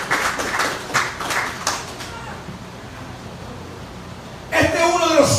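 A church congregation breaks into bursts of clapping with a speaker's voice between them, and the applause surges again loudly at the close.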